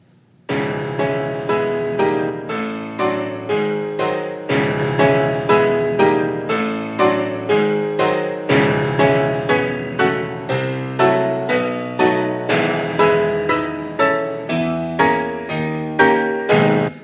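Piano music with a synthetic, evenly struck quality plays continuously in a steady rhythm of repeated chords, loud and clear with no voices.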